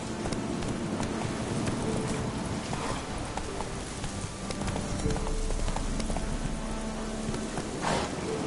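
Steady clip-clop of the horse Roach's hooves in The Witcher 3: Wild Hunt, a rhythmic trotting beat close by over a soft, rain-like background hiss.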